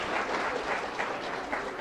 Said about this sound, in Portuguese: essas palmas para Jesus